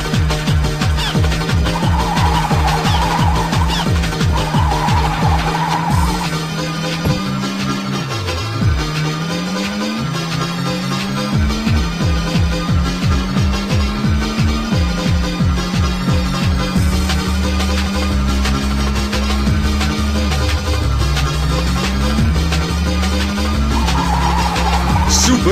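Car engine in the Super Drift 3D 2 drifting game, a steady revving drone that climbs through repeated gear changes for the whole stretch, with brief higher tire-squeal patches during slides, continuous and loud.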